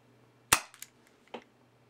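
A CO2-powered prototype airsoft revolver fires a BB from a shell: one sharp, loud pop close by, followed by a couple of fainter mechanical clicks.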